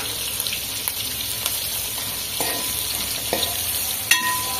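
Chicken with two tablespoons of pepper powder fries steadily in a pan, a continuous close sizzle with occasional stirring clicks and a brief louder scrape near the end.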